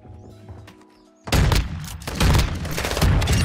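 Sniper rifle quickscope shot in an online shooter video game: a sudden loud blast followed by dense, sustained gunfire and booming, heard close with no voice over it.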